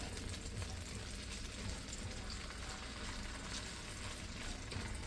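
Aromatic ingredients being stirred in a hot pan produce a dense, continuous hiss of frying that stays loud and even from start to finish.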